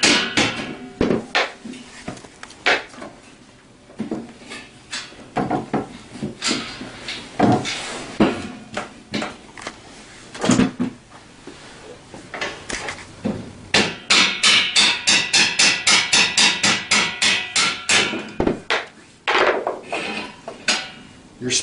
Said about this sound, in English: You might need a hammer to tap it off. Use rubber mallets here